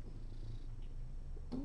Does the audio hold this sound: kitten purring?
yes